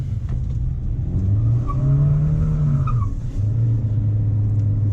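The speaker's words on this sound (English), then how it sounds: "See, it loves to spin its tires." A 2022 Kia Sonet with traction control spins its tires while turning, a loud steady engine drone under a rising and falling tire squeal, close and continuous.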